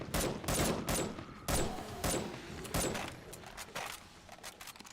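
A sniper rifle in the video game 7 Days to Die fires several sharp, separate shots in a spaced rhythm, each followed by a short decaying tail, fairly close and moderately loud.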